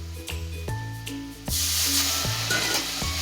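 Turmeric and ginger paste sautéing in a pan, a steady sizzle that swells louder halfway through, with scraping stirs and a faint tonal hum beneath.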